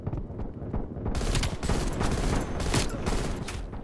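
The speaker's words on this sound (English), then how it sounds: "This man is just shooting his shotgun. He's literally just hip firing." In the video game Call of Duty Black Ops Cold War, a shotgun is hip fired again and again during an online Hardpoint match, with loud close blasts and dense gunfire that continue throughout.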